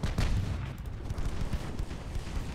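Warship guns firing in the naval video game Ultimate Admiral Dreadnoughts, with French protected cruisers in battle. Deep, booming shots sound repeatedly over a rumbling low background.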